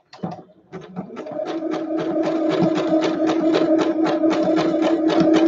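A sewing machine zigzag-stitching around fabric pieces on scrappy snippet rolls, starting with a few hesitant stitches, then a steady rapid mechanical chatter that holds at an even pace.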